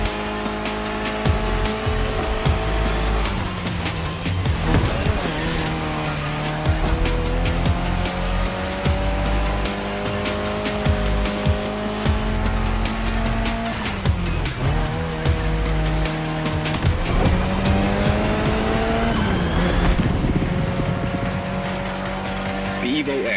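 Mitsubishi Lancer Evo X racing in The Crew Motorfest, a loud steady engine drone with gear-shift pitch drops and occasional tire squeal, with a voice talking over it throughout.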